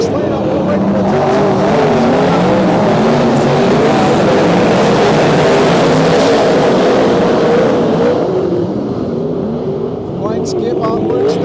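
Sprint cars roar around a New South Wales dirt track during a heat race, their engines blaring loud and continuous as the pack sweeps into the first turn, with an announcer talking over the din.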